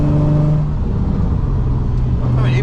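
Nissan 350Z drift car on a test drive after a brake line change, its engine droning steadily from inside the cabin with a sustained low hum and road roar throughout, a voice speaking briefly over it.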